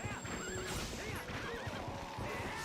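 Horse in the Twilight Princess video game neighing and whinnying, with rising-falling calls repeating over a busy bed of galloping clip-clop hooves and game sounds, fairly loud and continuous.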